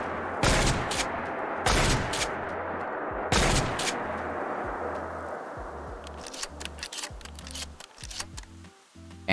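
A modded pump-action shotgun in Fallout 4 fires three loud, close shots about a second apart, then the action clicks and clatters through a shell-by-shell reload.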